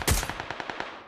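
Rapid gunfire in an online multiplayer shooter battle, a burst of about ten evenly spaced shots after a louder opening blast, close and punchy with no talk over it.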